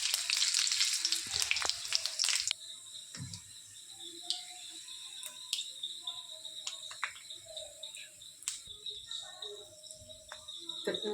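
Whole garam masala and bay leaves hit hot oil for mutton kosha, giving a loud burst of sizzling for about two seconds that settles into a faint, steady crackle.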